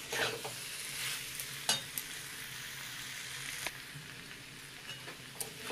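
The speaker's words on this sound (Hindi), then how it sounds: "इसको इसी तरह से 5 मिनट में भून लूँगी" Small new potatoes sizzle softly as they are stirred and fried in a pan, with a low steady crackle broken by occasional scrapes and clinks of the spoon, quiet and without talk.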